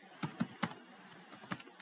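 Typing on a computer keyboard, a few quick clustered keystrokes in two short bursts with a pause between, close and fairly quiet, with no talk.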